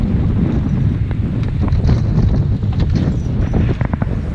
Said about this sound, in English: A hell of a windy day